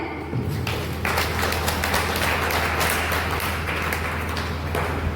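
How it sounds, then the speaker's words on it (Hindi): Devotees at a satsang during a guru aarti clap their hands together in a steady, continuous rhythm, a dense crowd of claps over a low sustained drone. "तो देखिए इस प्रकार से ताली बजाएं।"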